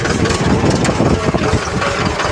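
A Mahindra tractor engine runs steadily nearby, a continuous low rumbling drone with slight uneven pulsing throughout, with no talk over it.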